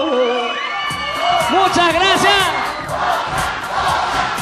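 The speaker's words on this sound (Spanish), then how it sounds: "Los gritos del público." A television talent show audience cheers, whoops and shouts loudly throughout, a dense roar of voices with rising calls, while a voice briefly speaks over the crowd.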